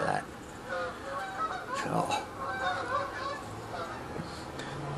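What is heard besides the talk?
geese flying over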